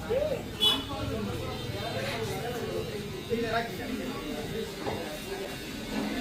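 An electric hair clipper buzzes steadily while cutting a child's hair, continuous and moderately close, under ongoing talk in the background.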